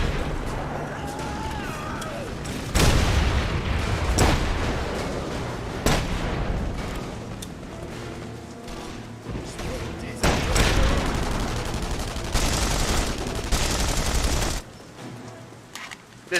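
Tommy gun fire in the video game The Saboteur comes in loud rapid bursts, several sustained volleys with explosive booms between them, while a player speaks over the action.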